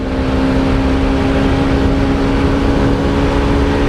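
A six-gear motorcycle engine holding a loud, steady drone at high revs, close by and continuous, with no talking over it.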